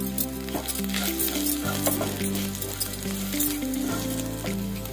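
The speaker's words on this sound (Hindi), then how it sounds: "एबे धनिया गुंड आधा चम्मच दे भाजी नबा।" Coriander powder fries in a pan for aloo kachori. A strong, steady sizzle and crackle plays under background music, with brief utensil taps.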